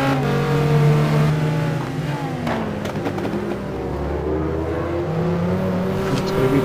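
A race car on the Daytona road course in a racing video game, engine droning and shifting pitch as it comes around and passes, steady and prominent with no voices.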